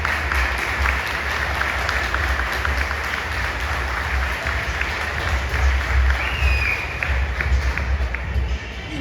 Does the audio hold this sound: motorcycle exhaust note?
no